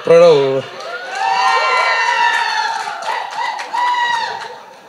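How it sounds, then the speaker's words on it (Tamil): A crowd at a stage event for a film, cheering and whooping loudly in sustained high shouts, with scattered claps beneath and a short voice at the start. "இப்போது நானும் சிவா மாதிரி கைத்தட்டல் தான் ஆரம்பிக்கணும் ஆசைப்படுறேன்."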